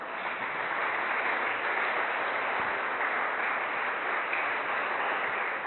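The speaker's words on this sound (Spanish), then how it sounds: "Si usted lo cree, déle un aplauso al Señor." A church congregation applauds in a steady, muffled wash of many hands clapping, evenly sustained and fairly faint, with a dull, narrow tone and no speech over it.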